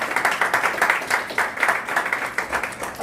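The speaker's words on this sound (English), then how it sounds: "I want y'all to give a round of applause for our panel and all the people on the panel." A room of people claps for a panel of Black male professionals. The clapping is close and lively, pulsing in quick uneven bursts for a few seconds with no voice over it.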